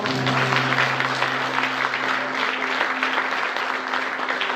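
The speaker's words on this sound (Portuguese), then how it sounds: "Você pode aplaudir ao Senhor?" Loud, continuous applause fills a church service as the congregation claps for several seconds, with a held keyboard chord sounding beneath the clapping.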